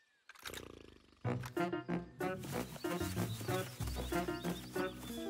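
An ogre lets out a series of deep, growling roars in quick bursts, loud and close, with no talk alongside.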